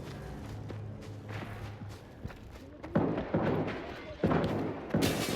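Several sharp, punchy game gunshots ring out at a middle distance in irregular bursts over a dense, rumbling game soundtrack, from bandits firing in S.T.A.L.K.E.R. 2: Heart of Chornobyl.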